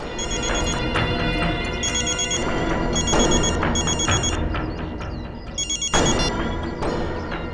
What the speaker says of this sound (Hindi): इसी एरिया में कहीं पर फोन की घंटी सुनाई पड़ रही है।